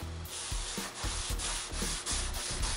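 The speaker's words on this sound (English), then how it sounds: "When you're wet sanding like this, you hear a little screeching noise." Mustang part being wet sanded by hand with Norton 600 grit paper and soapy water, a steady rhythmic rubbing rasp in repeated back-and-forth strokes, close and clear with no talking.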